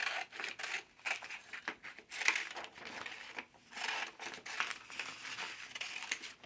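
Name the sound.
scissors cutting out paper photo copies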